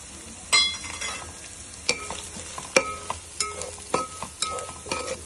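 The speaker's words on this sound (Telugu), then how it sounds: "జీరా ధనియా వేసిన తర్వాత కాసేపు ఫ్రై చేసాం కదా" Ginger garlic paste frying with cumin and coriander powder for a fish curry, a spatula scraping and clinking against the pan in a steady rhythm over a soft, constant sizzle.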